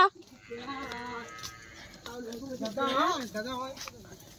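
Goats bleat out in an open field, with a few drawn-out wavering calls heard close by while people talk over them.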